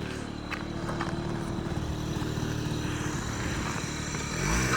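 A Honda Dio AF-34 carburetor scooter rides along with a steady low engine hum and road noise, rising slightly toward the end.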